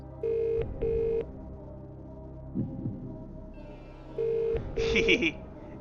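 Telephone call connecting in a Who Wants to Be a Millionaire video game: two beeping dial tones, a soft thump, then two more tones and a brighter electronic chime, all played alone without talk.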